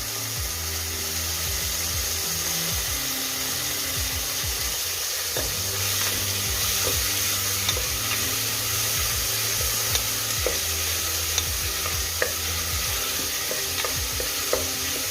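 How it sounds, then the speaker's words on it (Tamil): Onion and tomato sautéing in a pan for mutton curry, with steady frying sizzle and repeated stirring scrapes of a spatula against the pan throughout, close and continuous without talk. "வெங்காயம் தக்காளி நல்லா வதங்கட்டும்"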